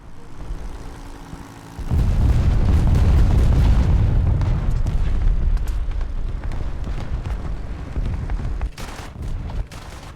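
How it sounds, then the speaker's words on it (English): A bomb from a World War I Saint Chamond bomber explodes in a war video game, a deep sustained rumbling blast that rolls on for several seconds before tapering. "That's probably a world's worst bomb drop."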